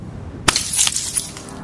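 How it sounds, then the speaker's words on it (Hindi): Glass bottle smashed over someone's head in a horror story: one sharp crack followed by a brief bright shattering spray of glass fragments, close and loud, then quickly fading. "उन्होंने वॉश बेसिन पर रखी एक कांच की बोतल उठाई और उसके सिर पर दे मारी।"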